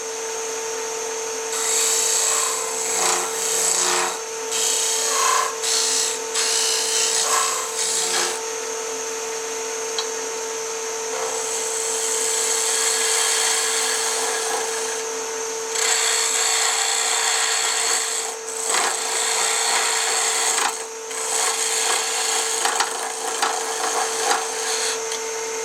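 A skew chisel cutting wood on a lathe for faceplate turning: a sustained close whirring hum with bursts of rasping, scraping cuts that start and stop repeatedly over the steady motor tone.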